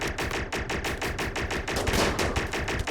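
Sustained automatic gunfire in the video game RimWorld, a dense, loud rattle of rapid shots that barely lets up.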